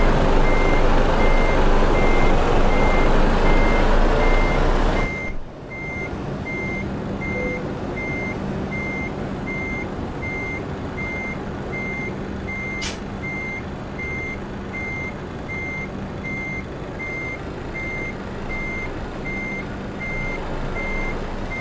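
A truck reversing in the Euro Truck Simulator 2 video game, with a loud engine rumble that drops away after a few seconds, then a steady run of regular reversing beeps over a quieter idle.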